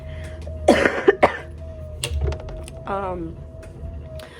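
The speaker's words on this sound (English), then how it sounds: "That's why I'm still coughing." A few harsh coughs burst out close by early on, followed by quieter throat noises and shuffling in a room with a steady hum.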